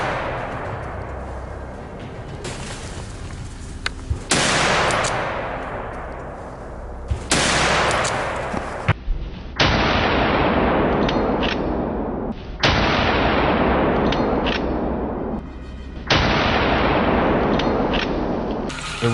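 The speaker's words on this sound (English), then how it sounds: "a rapid burst of gunfire erupts, taking down the two fattest beasts" Repeated loud gunfire aimed at wild boars, in several sharp bursts, each blast trailing off with echo, separated by brief pauses.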